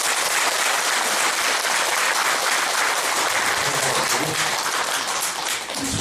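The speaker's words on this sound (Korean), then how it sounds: "박수 한번 쳐주십시오" A crowd at a Buddhist dharma assembly in a temple claps at the close of a precept ceremony, a dense, loud, continuous wash of many hands lasting the whole stretch.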